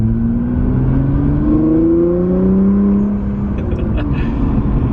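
A new performance car, an F80 replacement, revs its engine with rising and falling exhaust tones and whooshing blow-off valves, loud and close over a low rumble across about five seconds.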